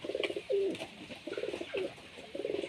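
A female face-beauty pigeon coos close by in short throaty phrases, three bursts in quick succession with brief pauses between, and no one speaking.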